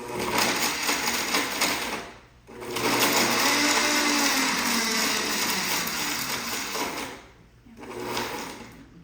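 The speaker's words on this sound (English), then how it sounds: "any blender or food processor will do, and I'm just gonna powder them up." A blender or food processor grinds ingredients down to powder, its motor whirring loudly in two long close bursts separated by brief pauses.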